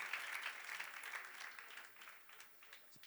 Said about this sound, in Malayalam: നിങ്ങളുടെ സുന്ദരനൊരു ക്ലാപ്പ് കൊടുത്താട്ടെ